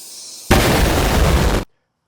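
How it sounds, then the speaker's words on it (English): A loud, dense blast of noise erupts suddenly, holds for about a second and then cuts off sharply into silence, presented as a bomb going off in a bathroom. "Bomb will go off in the bathroom."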